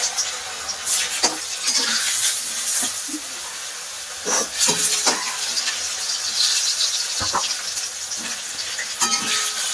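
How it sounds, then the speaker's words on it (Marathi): Phunke, gram flour dumplings for kadhi, deep-fry in hot oil with a continuous hissing sizzle and bubbling, marked by repeated bursts and crackles as pieces go in or get stirred. No one speaks. "तेल छान गरम व्हायला आलेलं आहे, त्यामध्ये आता आपण छान फुनके तळून घेणार आहोत।"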